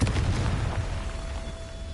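A Confringo blasting spell detonates in Hogwarts Legacy as a loud, close boom that decays over about two seconds, trailing off with a faint lingering tone.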